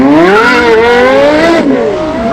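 A Porsche Carrera GT and a Lexus LFA launch side by side in a drag race, engines screaming loud and close as the revs climb steadily, a brief dip at a gear change, then climbing again.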